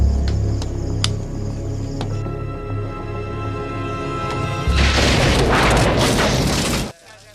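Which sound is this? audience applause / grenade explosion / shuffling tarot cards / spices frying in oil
grenade explosion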